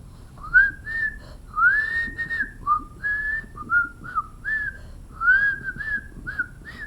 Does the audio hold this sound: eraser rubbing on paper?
no